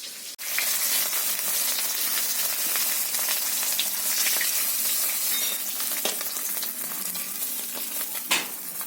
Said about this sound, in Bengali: এখন আমি মাছ ভাজা হয়ে গেলে ক্যাপসিকামটা ভেজে নেবো